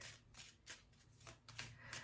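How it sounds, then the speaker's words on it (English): Cards riffle and slap together in quick repeated bursts, a soft close shuffling of a deck. "So let me shuffle this last deck."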